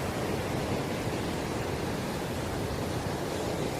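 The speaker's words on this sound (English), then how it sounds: "But listen to the sea." Steady broadband wash of sea waves on a shore, continuous and fairly faint, with no distinct breaking crashes, alone without voices.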